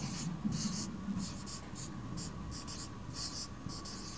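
Chalk or marker writing on a board during a Hindi math lesson, short scratchy strokes in quick irregular groups, fairly close, with a teacher's voice underneath.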